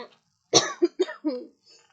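A single close cough followed by a short run of smaller coughs and throat clearing, then quiet.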